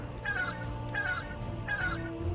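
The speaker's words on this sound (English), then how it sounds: "And my meow sound effect, which I also often use as an alarm." A meow sound effect used as an alarm on a vehicle built in the Trailmakers video game repeats three times at an even pace, as a moderately faint synthetic cat cry over a steady low engine hum.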